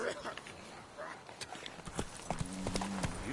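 Hooves of Roach, Geralt's horse in The Witcher 3, clip-clopping close by in a short burst under a voice, with a brief whinny-like tone near the end.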